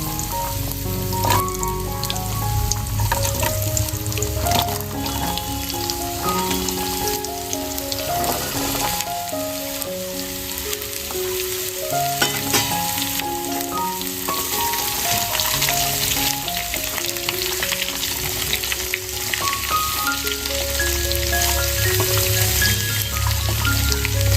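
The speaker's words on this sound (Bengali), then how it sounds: "এরপর আমি এর মধ্যে কেটে রাখা সবজিগুলোকে দিয়ে দেবো দিয়ে হালকা করে ভেজে নেবো" Chopped beetroot and carrot frying in a pan, a dense continuous sizzle like rain on a surface, steady and close throughout, with no one talking.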